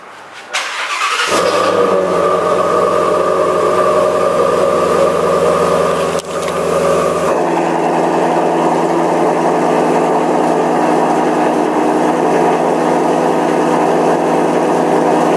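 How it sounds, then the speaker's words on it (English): A Ford Mustang GT350 with its resonator deleted revs up loud and close, settling into a sustained, raspy high-rpm roar that holds steady with a brief dip partway through, with no talking. "So we got a resonator delete going on in this GT350."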